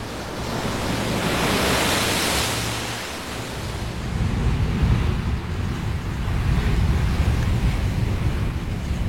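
Ocean waves surge and wash along a rocky coast, a loud continuous roar swelling and breaking, mixed with wind buffeting the microphone.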